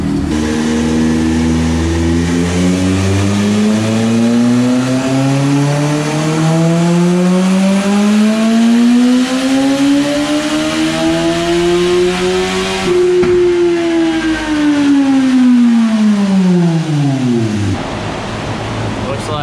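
A turbocharged Suzuki Hayabusa motorcycle makes a dyno power run, its engine note climbing steadily in pitch through one long, loud, close pull of about thirteen seconds before winding back down as the throttle closes and the revs fall.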